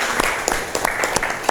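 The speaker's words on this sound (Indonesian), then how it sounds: "Tepuk tangan." A short burst of applause from a group, with distinct individual claps popping out of a steady patter, close and fairly loud, lasting under two seconds.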